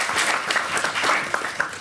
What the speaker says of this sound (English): can we get another hand of applause for everyone